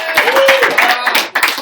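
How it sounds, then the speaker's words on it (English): Enthusiastic applause and clapping from an audience at a live Real Madrid Q&A event in Chicago, loud and close, with cheering voices mixed in. "Round of applause"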